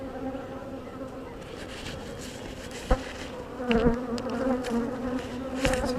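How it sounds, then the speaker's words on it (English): Honey bees buzz during a hive inspection, a constant close drone of many insects with brief handling knocks and louder swells as the frames move. "And there's the queen bee."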